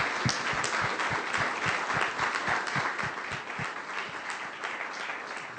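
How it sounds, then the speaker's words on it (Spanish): Applause from an audience at a panel discussion on freedom of expression on the internet, dense steady clapping with distinct individual claps standing out, sustained and even throughout. "Les pido, por favor, un fuerte aplauso a nuestros panelistas."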